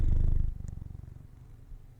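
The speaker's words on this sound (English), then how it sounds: "Can you kind of hear him purring?" A cat purrs close up, a low rhythmic rumble that starts strong and gradually softens.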